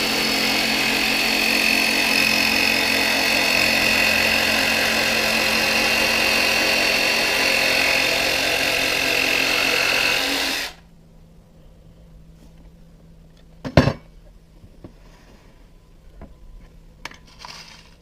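A jigsaw cuts the end off a fascia board, a loud steady buzzing cut lasting about ten seconds, then stopping abruptly into near silence broken by a sharp knock and a few faint clatters.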